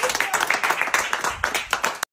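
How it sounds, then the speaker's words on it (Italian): Hands clapping in applause during a toast among friends over a video call, a short burst of quick, close claps. "Applausi."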